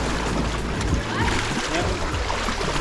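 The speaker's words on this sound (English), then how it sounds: "Oh, bit of waves action." Waves washing and splashing against a light weight boat at the shore as the tide goes out, a continuous noisy wash close by, with people talking over it.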